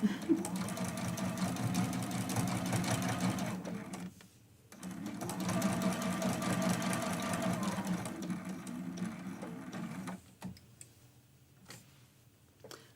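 A domestic sewing machine runs a basting stitch across a quilt block in two long, steady bursts of rapid mechanical whirring and ticking. A short pause separates them, and the clip ends in quieter, slower stitching with faint handling noise.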